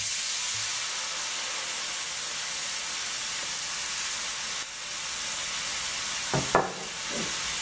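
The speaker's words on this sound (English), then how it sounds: "throw a little bit of red wine in there" Red wine poured into a hot cast iron skillet with steak hisses and sizzles in a steady, loud wash of steam, with a few faint clinks near the end.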